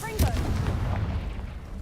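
A Confringo spell explodes in the Hogwarts Legacy video game. One sharp, loud blast lands near the start, followed by a rumbling decay that fades over the next second or so.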